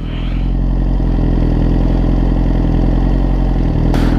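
Suzuki GSX-R1000R sport motorcycle engine running steadily at idle, a loud, close, continuous hum with faint clatter, no voices over it.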